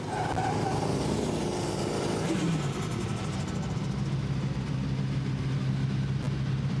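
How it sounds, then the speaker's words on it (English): A World Rallycross car at the 2018 Canada round revs on the start line for a practice launch, a loud rising engine roar that drops back to a rough idle. "Solberg with his practice launch."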